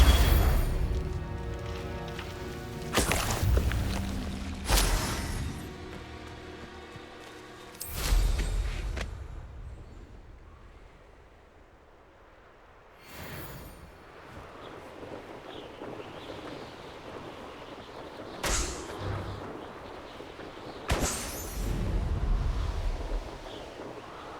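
Spell blasts from the Hogwarts Legacy video game on PS5 strike as several loud, booming bursts spread across the stretch, each sharp onset fading into rumbling wind-like noise, with quieter gaps between impacts.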